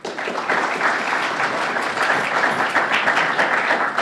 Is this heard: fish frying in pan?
no